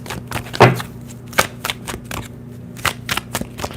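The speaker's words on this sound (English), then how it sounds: "Let me shuffle real quick." A deck of tarot cards is shuffled by hand in a series of crisp, papery riffles and slaps, with bursts spaced irregularly over a low steady hum.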